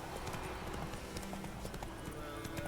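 Hoofbeats of a horse in The Witcher 3 clop steadily and fairly loud over a dense game soundscape, with a faint voice now and then.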